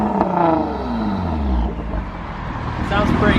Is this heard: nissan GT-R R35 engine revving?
yes